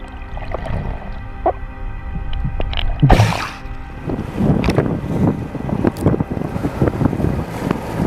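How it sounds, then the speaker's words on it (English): A catamaran sails fast across open ocean in a strong wind, with steady wind buffeting and water rushing against the hulls, plus a brief gust or splash around the midpoint. "Then a front came through and brought the wind back. We were once again sailing fast"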